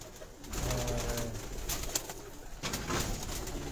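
Lotan pigeons coo on a rooftop in a short, steady stretch of low, rolling calls that sit fairly close, with faint background noise and no voices.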